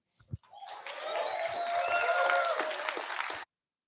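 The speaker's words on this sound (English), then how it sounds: "can you make sure his kids can hear the crowd applause from him walking up?" Crowd applause at a real estate investors' live meeting as a guest speaker walks up, a short knock then a swelling round of clapping with some cheering whoops, cutting off abruptly after about three seconds.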